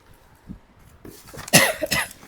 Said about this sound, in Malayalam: സോറി ഫോർ ദ ചുമ